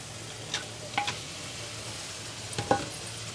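Chicken frying in a pan at home, a steady low sizzle with a few brief scrapes and clinks of a stirring spoon, close and without talking.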